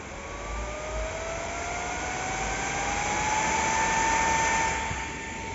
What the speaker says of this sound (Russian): вот, включается вентилятор